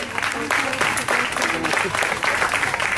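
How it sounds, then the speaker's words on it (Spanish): A church congregation applauds steadily and loudly throughout, a dense crowd clapping with voices mixed into it. "Dele un aplauso al Señor."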